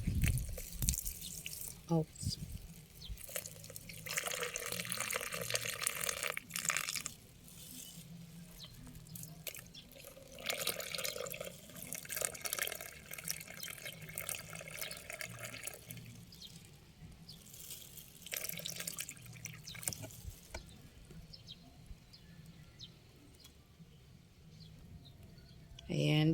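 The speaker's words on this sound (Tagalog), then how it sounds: "Lagyan natin ng tubig mga friend." Water is poured into a planting container for kangkong, water spinach. It comes in bursts of splashing and trickling with pauses between, close by, and a voice briefly exclaims.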